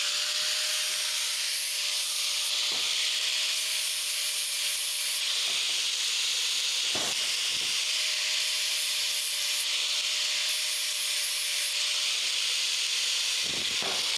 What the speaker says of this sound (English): Allan's about to use a flap disc on a 4-inch grinder